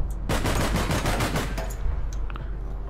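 A video game weapon fires rapid automatic bursts, a quick run of close, loud shots for about a second and a half, followed by a few scattered softer reports.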